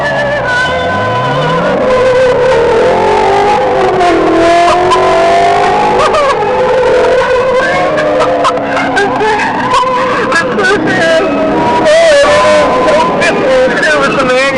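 A car engine revs hard and climbs through gears, its pitch rising and dropping repeatedly, loud and close, with crowd-like background noise.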